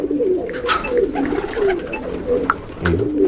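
Racing pigeons in a loft give soft, throaty coos that overlap in a continuous close murmur, with brief flutters and scuffles among them and no talking.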